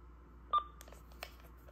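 A Yaesu FTA-850L transceiver powers on with a single short, clear electronic beep, followed by a few faint clicks in a quiet room.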